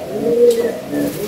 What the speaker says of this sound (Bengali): এটা হচ্ছে মাদি পায়রাটা